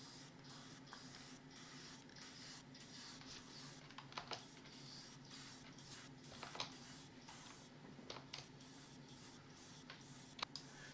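An airbrush lays Alclad polished aluminium paint onto a scale model Lancia 037 rally car, a steady soft hiss broken by regular short pauses and faint clicks as the trigger works, with no voices.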